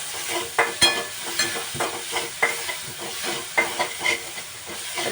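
Ginger garlic paste frying with vegetables in a little oil in a pan, steady sizzle broken by repeated scraping stirs of a spoon, close and continuous.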